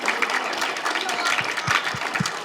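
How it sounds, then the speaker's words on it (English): A town hall panel audience applauds for Gemma, a young participant interested in musical theater, with dense, steady clapping from a crowd filling the moment at moderate loudness. "Big round of applause for Gemma"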